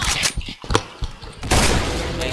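Rapid bursts of video game gunfire in the shooter Point Blank crackle close and loud, with sharp shots at the start and a sustained volley near the end.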